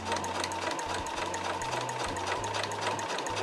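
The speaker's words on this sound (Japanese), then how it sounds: "もう一回重ねて縫っていきます。" Sewing machine stitching fabric for a house-shaped key case, a steady whirring run that stops and restarts in short bursts, close and loud with no voices.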